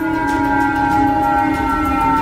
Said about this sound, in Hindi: दक्षिण कोरिया में खतरे का सायरन बजने लगा